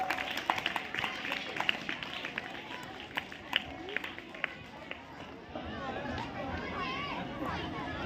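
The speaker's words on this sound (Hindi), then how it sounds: "तालियों के साथ स्वागत करते हैं।" A school audience applauds to welcome the manager at a Republic Day event, loose scattered clapping rising over crowd murmur and chatter.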